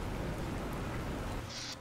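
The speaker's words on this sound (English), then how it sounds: "Here comes the rain." Steady rain pours down in The Planet Crafter, a dense continuous hiss throughout with a faint low rumble, fairly loud and constant with no talking.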